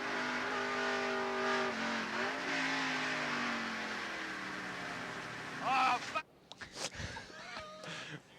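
A 1989 NASCAR Winston Cup race car slides off course on oil into the tire wall: a loud, close engine roar with shifting pitch, then a sharp drop followed by scattered impacts and rattles.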